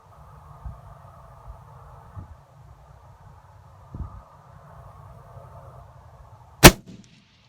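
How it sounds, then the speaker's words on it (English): A rifle firing .308 Norma ammunition lets off a single sharp, loud shot near the end, following several seconds of quiet low rumble. "So let me shoot these other 4"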